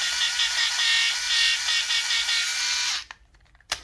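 The motor of a Remington Balder Pro head shaver runs with a loud, steady electric whine up close, its pitch wavering slightly, before it cuts off at about three seconds and then gives one brief buzz.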